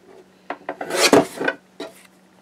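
Half-inch strips of cardstock are cut in a quick series of short, dry rasping and scraping strokes, close up, with brief pauses between them and no talking.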